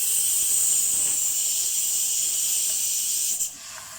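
Mutton sizzles steadily in a pan with dry masala of coriander, turmeric, chilli and salt as it fries for nihari, a continuous close hiss with a brief stir near the end.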